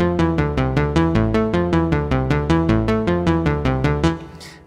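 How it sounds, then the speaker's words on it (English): A Carbon sequencer plays back its second scene, a quick even pulse of synth notes over a low bass line that runs steadily and then fades out, with no one speaking. "Scene two sounds like this."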